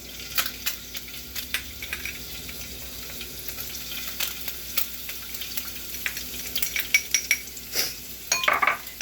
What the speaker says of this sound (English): I'm gonna fry a little bit of garlic